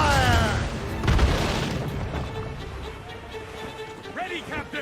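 Ship cannons boom in a naval battle in Assassin's Creed Rogue, a heavy blast at the start and another about a second later, then rumbling decay, with shouted commands over the gunfire.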